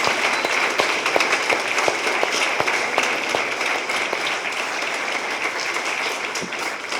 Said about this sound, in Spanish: Dele un fuerte aplauso a mi Jesús.